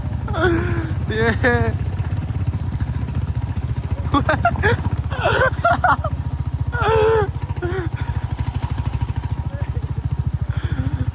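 A cruiser motorcycle engine thumps steadily at close range throughout on a rough mountain road to Ghale Gaun, Nepal, a low rhythmic rumble, while people talk over it.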